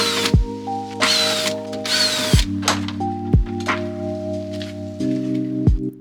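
A power drill spins in repeated short bursts with whirring pitch rises and falls, ratcheting clicks between them, while fasteners are backed out to remove a car's upper grille near the headlights.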